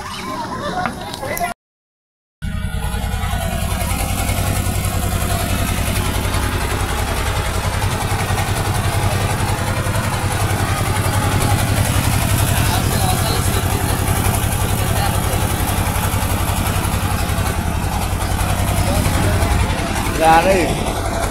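A trawler boat's engine runs during a river crossing, a loud, steady, low chugging drone that continues after a brief dropout near the start, with people talking over it.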